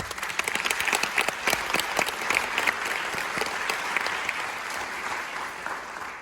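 Conference attendees break into sustained applause, a dense crackle of many hands clapping close by that tapers gradually over several seconds, with no talking over it.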